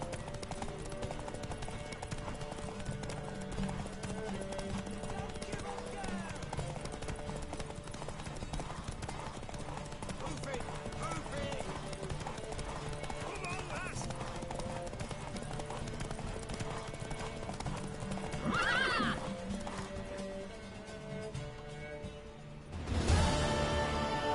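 In The Witcher 3 video game, rhythmic horse hoofbeats clip-clop steadily under a low background hum, with a horse whinnying briefly near the end and a sudden louder burst.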